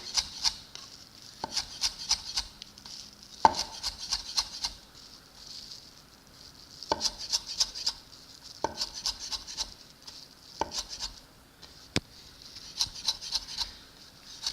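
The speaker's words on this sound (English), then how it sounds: "Chopping parsley." A knife chops parsley rapidly on a cutting board in repeated bursts of quick, crisp taps separated by short pauses, close and clear.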